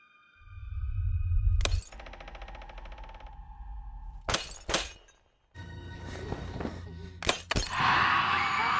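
Glass shattering as a scare in a horror film, a loud crash followed by several sharp breaking bursts over a dark, droning score with deep rumbles.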